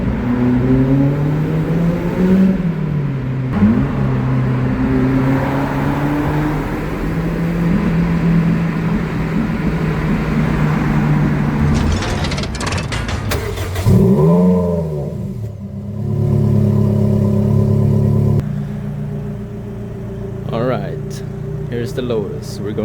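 A loud Lotus Elise engine drones and revs through a tunnel run, its pitch climbing and dropping with sharp rev blips that echo. Voices seem to come and go.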